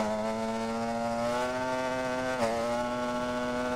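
A 500cc motorcycle at top speed holds a loud, steady high-pitched engine whine with a brief dip mid-run and then settles again, wind roar underneath, with no voices.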